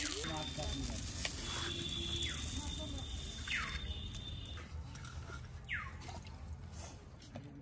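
Greens frying in a pan give a soft, quiet sizzle with faint drips and a few stirring sounds underneath.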